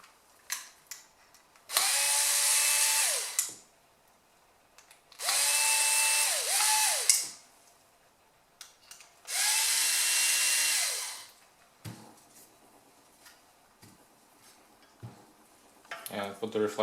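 A cordless power drill drives the reflector screws back into a motorcycle headlight housing during an HID bi-xenon projector install: three loud whirring runs of about two seconds each, close up, separated by pauses with small clicks and handling noises.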